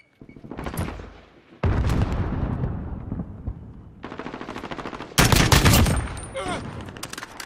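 Several bursts of rapid M4 rifle fire in Call of Duty: Modern Warfare crack out loud and close, separated by short pauses, with a brief electronic beep near the end.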